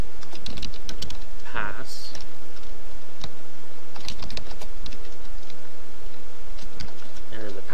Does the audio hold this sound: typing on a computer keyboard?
yes